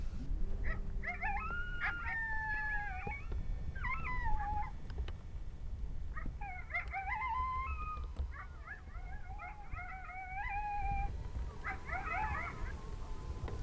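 Coyotes howl at dusk, several wavering yips and drawn-out howls rising and falling in overlapping bursts at moderate distance over a low outdoor hush.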